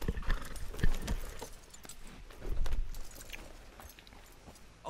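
Horse hooves clip-clop at a walking pace in Red Dead Redemption 2, the steps uneven and fairly close, mixed with light jangling tack and soft outdoor ambience.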